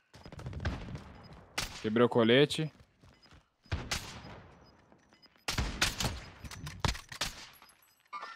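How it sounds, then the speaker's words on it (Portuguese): Bursts of sniper rifle gunfire in a video game come in several loud clusters, with someone talking between and over the shots. "Ah, tem tiro lá."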